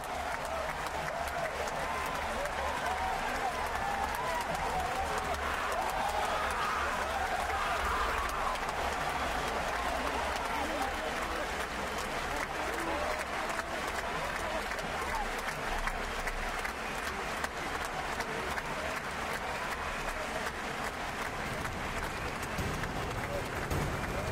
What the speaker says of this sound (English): The crowd go up.